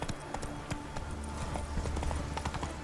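A horse gallops in the video game Witcher 3, rapid rhythmic hoofbeats clip-clopping steadily under faint game ambience.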